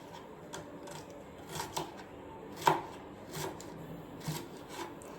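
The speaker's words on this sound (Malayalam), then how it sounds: "ഇതിങ്ങനെ മുറിച്ചെടുക്കൽ ഭയങ്കര ഒരു പണിയാണ്" A knife chops green beans into small pieces in a home kitchen for a bean thoran, giving soft, irregular taps and scrapes against the cutting board, close and moderately quiet, with no talking.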